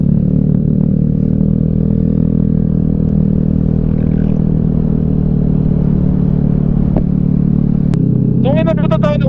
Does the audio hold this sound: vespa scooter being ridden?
yes